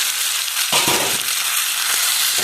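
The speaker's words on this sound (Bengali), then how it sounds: "এবার এটা খুব ভালো করে কষাবো" Boiled potatoes being sautéed in a spiced masala in a pan, giving a loud, steady frying hiss with a few dull thumps and scrapes as they are turned; close, no voices.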